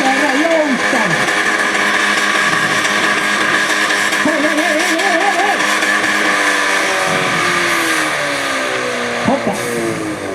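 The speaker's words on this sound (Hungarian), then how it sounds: "Nem kell ennyire forgatni. Ne állj ennyire a gázon." A car engine revs hard at a driving skills competition in Kunbaja, rising and falling in pitch through sustained high-rpm pulls, loud and close, with people talking over it.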